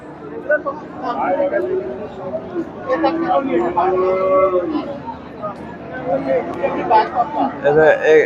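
Cows lowing repeatedly at the busy Chandaikona cattle market in Bangladesh, several drawn-out moos close by, overlapping with a constant babble of traders talking and bargaining.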